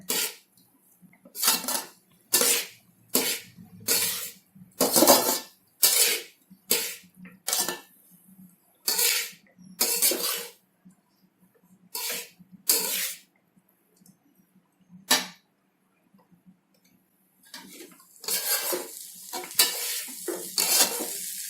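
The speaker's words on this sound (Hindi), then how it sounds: "अब हम इसमें टमाटर ऐड कर देंगे। और इसको मिक्स कर देते हैं।" Tomatoes are stirred into sizzling vegetable pulao in a pan, with a run of loud, rhythmic scraping strokes close by over a steady frying hiss, then a pause before a busier burst of stirring near the end.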